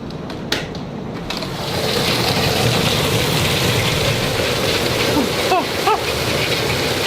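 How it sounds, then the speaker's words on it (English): Heavy downpour during a thunderstorm under a tornado watch, a dense, loud, continuous rushing hiss that swells after a moment, with a faint voice near the end. "It is raining so heavy."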